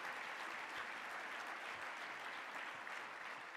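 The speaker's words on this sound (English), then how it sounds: "give my staff a big round of applause" Sustained applause from a large audience at the 2013 State of Los Angeles County address, a dense, even wash of clapping that holds steady and loud for the whole stretch with no voices over it.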